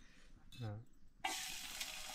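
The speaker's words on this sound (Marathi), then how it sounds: "तेलात कांदो टाकलाय कांद्यात तेल दिसताना कांदो टाकलाय" Onion tossed into hot oil in a home kitchen pan, a sudden loud sizzle that bursts in and keeps crackling steadily, after a brief voice.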